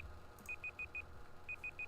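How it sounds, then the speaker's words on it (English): A timer beeps in two quick runs of short, even electronic pips, four then three, fairly faint over a low background rumble, with no talking. "That timer was going."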